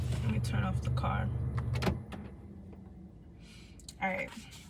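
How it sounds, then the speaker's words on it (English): A car is switched off, and its low engine rumble drops away abruptly near the midpoint, leaving a quieter interior with faint clicks and a short mechanical whir. Someone speaks during the first part. "Let me turn off the car."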